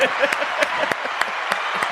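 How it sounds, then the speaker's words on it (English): Applause sound effect: a short burst of dense, steady clapping at moderate loudness, with a voice briefly audible underneath. "I'll play the applause."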